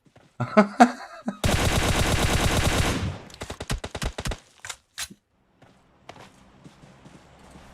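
Airstrike explosions hit in a battle royale video game, a long sustained crackling barrage followed by a string of sharp, separate blasts that thin out into faint scattered noise.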